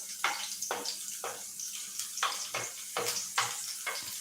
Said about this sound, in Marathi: तेल छान गरम झाले त्याच्यामुळे मिरच्या आपल्या पटकन तळल्या गेलेल्या आहेत